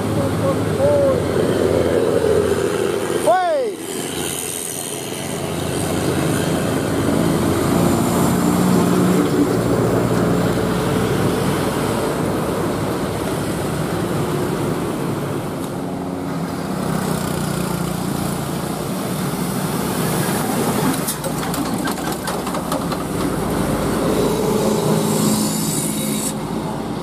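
A loaded Hino tronton heavy truck carrying hebel blocks labors uphill in the right lane, its diesel engine droning loud and steady close by, with people talking and calling out over it.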